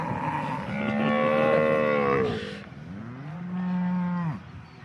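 Two long, loud cow moos follow one another at close range, each a drawn-out bellow rising and falling, with a short gap between them. The cows are being sold at a livestock market in Vichhiya, and no one speaks.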